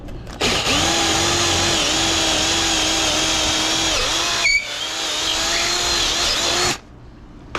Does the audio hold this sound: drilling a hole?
yes